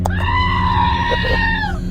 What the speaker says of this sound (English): I think I see a goat out there.